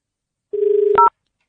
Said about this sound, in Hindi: तो अब बउआ ने फ्री की सेटिंग कर ली है, उनको फोन लगाता हूँ